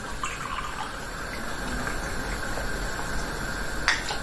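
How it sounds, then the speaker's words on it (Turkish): Apple cider vinegar poured into a roasted pepper and eggplant meze, a steady close liquid pour running without a break and ending with a small splash near the finish. "Elma sirkesinden katacağım."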